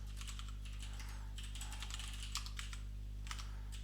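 Keyboard typing while entering code for an Advent of Code programming puzzle, a steady run of light, quick key clicks in short bursts over a constant low electrical hum, close and fairly quiet.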